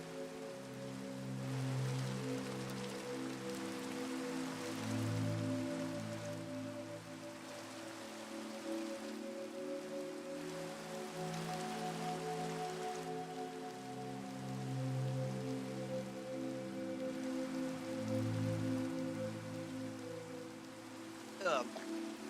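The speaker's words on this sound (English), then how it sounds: "I'm gonna go grab a drink to enjoy the rain" Steady rain falls in Minecraft, a soft continuous patter that holds for the whole stretch, with a low muffled hum of background music beneath it.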